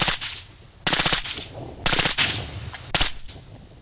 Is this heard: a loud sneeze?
no